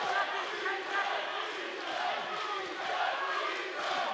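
A packed UFC 280 arena crowd roars on its feet through the final seconds of the Dillashaw vs Sandhagen bout, a loud, continuous wash of cheering with a commentator talking over it.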